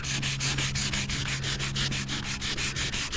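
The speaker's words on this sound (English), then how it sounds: "now I'm gonna run some 320 grit." Truck paint is sanded by hand with 320 grit sandpaper in quick, rhythmic back-and-forth strokes, a close, steady scratching rasp with no voices.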